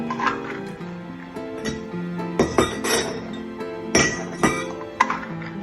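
Dry beans poured into glass canning jars, a run of light clinks and rattling taps against the glass, close and fairly quiet, with small clusters of sharper pings.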